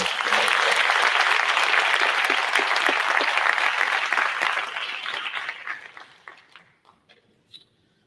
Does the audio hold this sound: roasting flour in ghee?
no